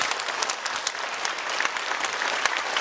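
A church congregation claps vigorously in a steady, dense wash of applause, loud and sustained with no pauses.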